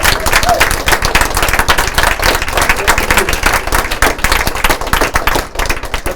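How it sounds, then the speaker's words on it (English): Dense applause from an expo audience, many hands clapping rapidly and continuously at close range, fairly loud throughout. "So I want to applaud you"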